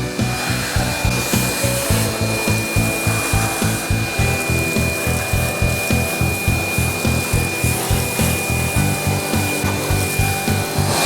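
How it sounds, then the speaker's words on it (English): A steady, rhythmic rasping grinds old mortar out of a basement wall. The strokes repeat quickly and evenly for the whole stretch with a constant machine-like drone underneath, close and loud, with no talking. "I may have to end up scraping some of this old mortar out."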